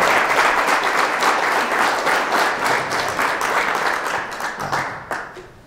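A library speaker-series audience breaks into loud, close, dense applause that holds strong for several seconds, then begins to taper off.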